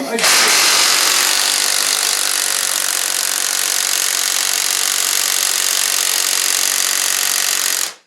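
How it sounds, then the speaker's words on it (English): A special tool at work on a Vespa scooter part in a workshop, giving one loud, steady, continuous whirring buzz that starts abruptly, holds constant for about eight seconds, then cuts off. "you got to hold it down and thread this nut back on by hand. This is the special tool for it."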